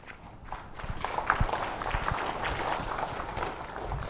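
Participants at a Blanket Exercise give themselves a round of applause, a moderate, somewhat sparse clapping with individual claps standing out, fairly quiet and building slightly after the start.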